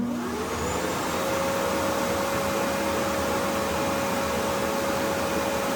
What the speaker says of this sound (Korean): 먼지를 비우는 소음의 경우 살짝 큰 편인데요